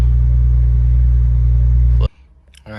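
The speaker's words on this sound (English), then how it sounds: "You can get in your car and you can start your car." A V6 engine in a 1999-2004 Ford Mustang fires up right after a starter replacement, a steady loud rumble from up close for about two seconds before it is abruptly cut off.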